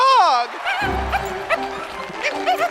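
A dog performing in a backflipping dog act gives a run of high, whiny yips and short barks, close and fairly loud, with some whimpering mixed in.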